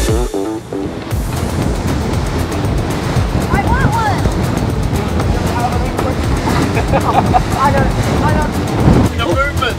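Steady wind and rushing water around a moving racing sailboat, loud and continuous, with a voice speaking briefly over it.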